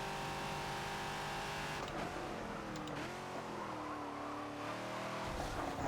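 A Ford Falcon XB in Forza slows hard at Hockenheim National, its engine note dropping sharply while the tires squeal, loud and continuous with no voice over it.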